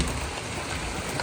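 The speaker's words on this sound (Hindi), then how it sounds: "आप लोग आवाज़ आ ही रही होगी कि कितनी तेज़ जो है ना बारिश हो रही है इस वक्त।" Heavy rain falls outside in a steady, dense hiss of drops striking surfaces, loud and unbroken with no talking.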